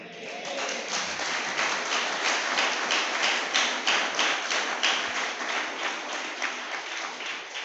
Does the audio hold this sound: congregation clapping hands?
yes